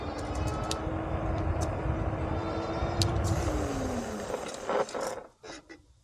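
An electric scooter, the Haoqi Antelope 750 Pro with mechanical brakes, slows to a stop from 20 mph. Steady road and motor rumble runs at first, then drops away near the end, where a few short scrapes and bumps are heard.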